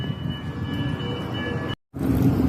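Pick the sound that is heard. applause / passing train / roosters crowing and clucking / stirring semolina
passing train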